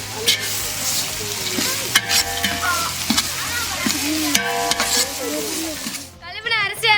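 Sliced onions sauté in a pan for a village-style jackfruit biryani, with a steady sizzle and the repeated scrape and clatter of a ladle stirring through the whole stretch, while voices murmur faintly in the background.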